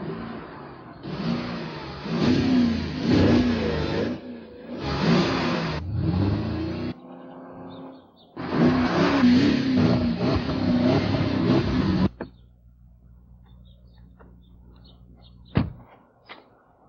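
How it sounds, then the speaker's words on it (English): A 450-horsepower Porsche Cayenne Turbo engine revs hard in three loud bursts, then settles to a low idle rumble, followed by a single sharp thump like a door closing. "The 450 horsepower Porsche Cayenne Turbo."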